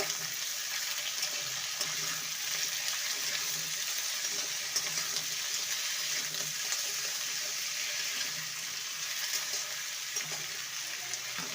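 Eggplant, beans and other vegetables frying in a pan for a Bengali spinach dish, giving a continuous even sizzle with faint scraping from stirring, close and steady with no voices.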